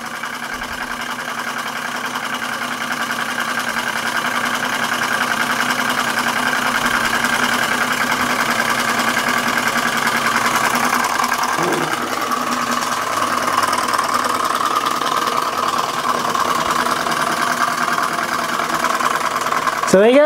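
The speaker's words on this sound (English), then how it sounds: "the Bing 100-year-old hot air engine running successfully after having all the missing parts made" A 100-year-old Bing hot air engine, its missing parts newly made, runs steadily with a continuous mechanical hum and fine rapid chatter, close and even throughout, ending with a brief sharper sound.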